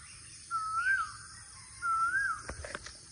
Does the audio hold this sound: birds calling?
yes